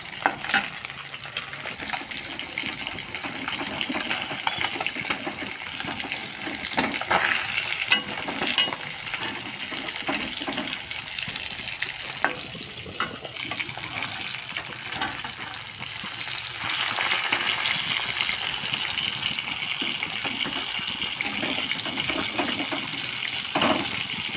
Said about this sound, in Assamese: মোৰ মাছখিনি হাফ ফ্ৰাই হৈ গ'ল।